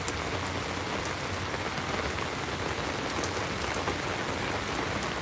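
Steady rain falls in a garden at the Smithsonian Gardens, a dense, loud, continuous patter of drops on surfaces and leaves with no voices.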